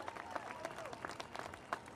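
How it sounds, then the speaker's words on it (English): Crowd applause at an outdoor Armenian Genocide commemoration in Times Square, following a senator's speech; steady mid-level clapping with a few sharper claps, heard without talk. "Let's hear a round of applause for Senator Schumer."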